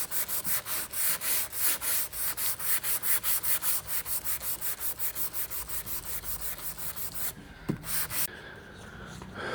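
Rapid, even back-and-forth strokes of a sanding block with 320 grit sandpaper rasp across primer, about two dozen rhythmic passes close up, then a brief pause and a few slower rubs.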